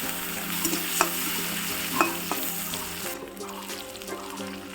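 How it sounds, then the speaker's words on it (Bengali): Whole cumin, green chilies and onion sauté together in a pan, giving a loud, steady, close-up sizzle with a few utensil clatters in the first two seconds. "গোটা জিরে, কাঁচা লঙ্কা, পেঁয়াজ সব কিছু একসাথে দিয়ে ভালো করে কষিয়ে নিব।"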